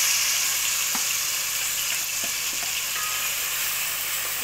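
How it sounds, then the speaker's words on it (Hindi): Onion and tomato fry in hot oil for fish curry, a steady loud hiss with faint stirring ticks throughout and no voices. "उसके अंदर मैं प्याज और टमाटर जो है वो उसको फ्राई करूँगी"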